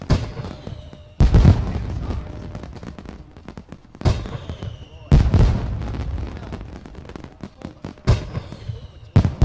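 Fireworks bursting in The Sims video game, a series of loud booming explosions arriving in clusters at regular intervals, with crackling tails between them and occasional talk over the display.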